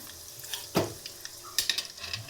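Ridge gourd frying in hot oil in a pan, a soft steady sizzle broken by a few louder scraping stirs and clatters, close up with no voices.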